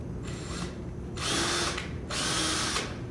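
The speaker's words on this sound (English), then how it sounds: "I'm using a 632 tap here with an 1/8 inch drill bit." A power drill fitted with a 6-32 tap and a 1/8 inch bit whines in two loud, steady bursts of about a second each, close by, with a quieter start before them.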